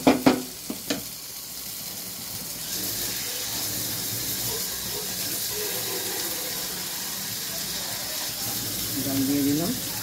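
Water poured into a hot pan for a fish curry with potato and pointed gourd hisses and sizzles steadily after a few sharp knocks, close up.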